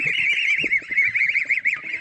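Grown farm geese honking loudly and continuously in a crowded pen, a dense chorus of overlapping nasal calls with no pauses.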